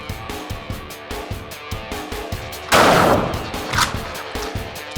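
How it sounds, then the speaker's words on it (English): A shotgun fires double-aught buckshot at close range outdoors, one loud blast cutting through a steady rhythmic background, followed by a fainter second report. "So now we're going to shoot up towards the head at 5 yards, same double-aught buckshot round."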